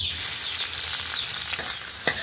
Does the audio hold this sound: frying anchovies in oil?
yes